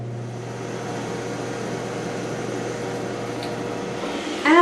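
A Ninja air fryer cooks sweet potato fries. It gives a steady low hum and fan whir that stays constant throughout, and a brief clatter comes near the end.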